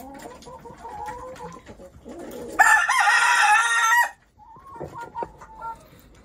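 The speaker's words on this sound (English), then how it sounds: "He has such a wonderful crow." A rooster on a farm crows once in a long, loud, scream-like call lasting over a second, close by, with softer clucking and fowl sounds before and after; no talking.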